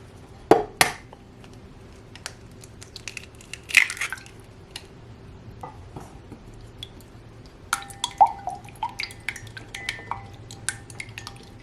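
One egg cracked into a large Christmas mug serving as a mixing bowl for brown rice pancake batter: a few sharp, close clicks and cracks spread apart, with faint drips and quiet kitchen handling between them.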